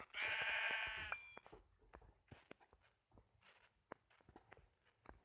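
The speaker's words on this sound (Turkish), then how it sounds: "Hatta iki koyun bulmuşum." A single loud sheep bleat rings out in Minecraft, followed by soft footsteps and light clicks in an otherwise quiet game scene.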